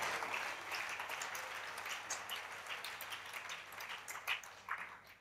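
A church congregation applauds, a dense, steady patter of many hands clapping at moderate volume that continues throughout with a few sharper claps toward the end.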